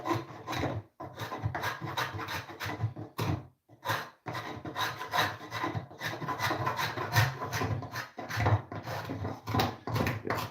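A handheld Bosch sander working on wood, a loud, steady rasping drone that runs almost continuously, with brief pauses near the start and middle, heard close and alone without any talking.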